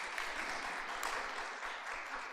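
A church congregation claps to welcome a visitor during worship, a steady, moderately soft patter of many hands that continues without a break, no talking.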